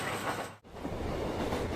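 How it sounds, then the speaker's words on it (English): A Marine Liner train runs along an elevated double-track line in Japan, a steady broadband rolling roar with low rumble, briefly dropping out for a moment before resuming at the same even level. "After that, the train started running on the elevated line and entered the double-track section."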